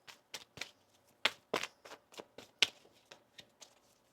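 Tarot cards shuffled by hand, a run of crisp papery snaps and flutters in uneven bursts, close and fairly quiet against near silence, with no talking.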